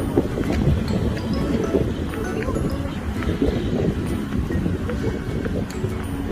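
Outdoor wind buffeting the microphone during a day trip in Gyeongju, a steady low rumbling gust throughout, with faint footsteps and background voices mixed in.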